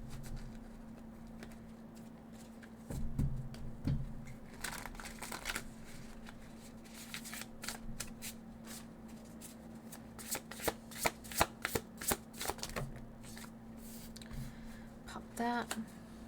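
A deck of oracle cards is shuffled during a cozy tarot reading, making soft papery riffles and taps that come in bursts, louder around the middle and toward the end, over a steady low background hum.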